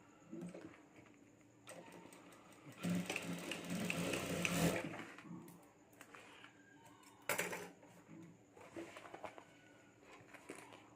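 A sewing machine stitches a fabric clutch purse in short mechanical bursts, one longer run in the middle and a brief one later, with quieter gaps of handling between them.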